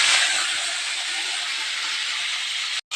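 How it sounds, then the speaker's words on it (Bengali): Vegetables hit hot oil seasoned with radhuni after frying fish for a Bengali fish curry, giving a loud, steady, even sizzle that runs unbroken for nearly the whole stretch before cutting off abruptly at the very end. "দেখো বন্ধুরা, সবজিগুলো সব দিয়ে দিয়েছি"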